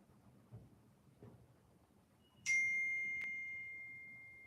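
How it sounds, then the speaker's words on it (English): Two bright electronic dings from a mobile phone notification ring out clearly, the first at about two and a half seconds and a second soon after, each lingering as a fading tone over a quiet background with faint shuffling. "his phone is going crazy right now"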